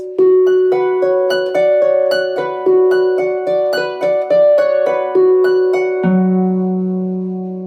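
A harp plays a short melodic passage of The Holly and the Ivy in plucked notes over sustained bass tones, ending on a low ringing chord that slowly fades.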